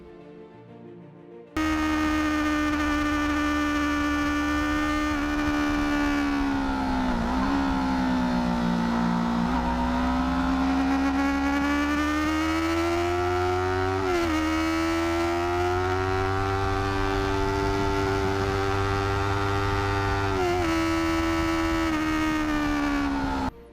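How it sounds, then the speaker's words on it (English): A high-revving Yamaha R3 motorcycle engine screams continuously at close range, pitch rising and falling through gear changes as it races along the Sears Point track. "that was me at Sears Point ripping on my R3"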